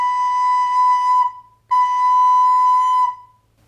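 Two long, steady recorder tones on the same pitch, each held about one and a half seconds with a short gap between, played alone and clear at close range.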